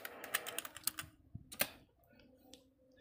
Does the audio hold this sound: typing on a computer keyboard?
yes